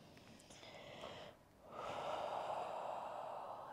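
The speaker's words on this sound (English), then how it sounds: "Take one more full breath here." Deep, audible breathing during a gentle morning yoga session: a long breathy exhale, a short pause, then a fuller, louder airy inhale or exhale through the nose, close and alone.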